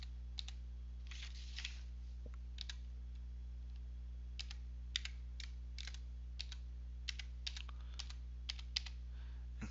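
Password typed on a computer keyboard in short bursts of quiet keystroke clicks with pauses between them, faint and close over a steady low electrical hum, with no one talking.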